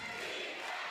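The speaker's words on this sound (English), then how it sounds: "Crowd getting loud." A basketball arena crowd at a FIBA World Cup game between the Netherlands and Austria roars steadily and loudly in a brief burst, with no clear speech over it.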